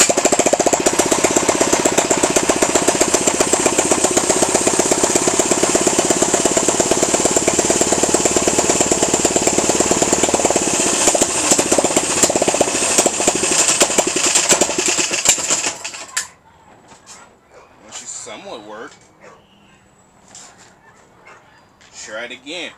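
A go-kart engine with the choke on and its air filter removed fires and runs loud and close with a rapid, rattling pulse for about fifteen seconds, then cuts out, leaving quieter scattered sounds.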